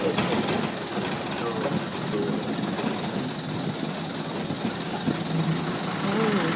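Bus engine drones continuously from inside the vehicle on a trip to Mysore, a loud, steady rumble with a rattling edge, and faint voices underneath.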